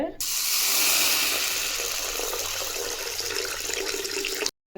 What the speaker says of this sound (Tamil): இப்போ தண்ணி ஊற்றி ஒரு அரை மணி நேரம் நல்லா ஊற வச்சுக்கலாங்க.